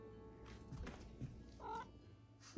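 A small cat meows once in a short, clear call at a garden campsite near Knik Glacier in Alaska, over faint background noise and a few soft thumps.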